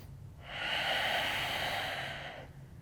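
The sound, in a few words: breathing in during yoga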